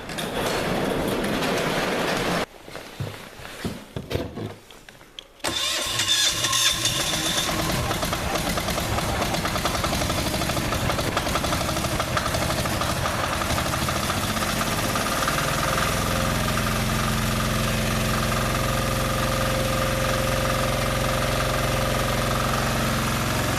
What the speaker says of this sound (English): Engines don't like to start when it's fucking freezing cold.